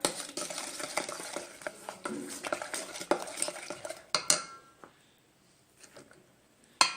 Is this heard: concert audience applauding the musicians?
no